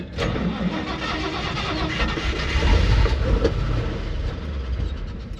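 A 1968 Dodge D100 pickup's gasoline engine cranks and catches, then runs roughly with a loud, steady mechanical rumble close by, with no talking.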